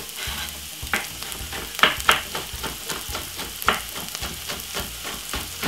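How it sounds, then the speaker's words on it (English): Spring onion and white onion sizzle steadily in a frying pan, with a few sharper stirring clatters and scrapes breaking through the close, continuous crackle. "So let that fry for up about 2 to 3 minutes."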